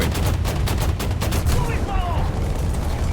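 Tank cannon shells firing in an armored combat video game, a rapid burst of loud booming shots packed into the first second and a half, then rumbling battle noise with faint whistling tones.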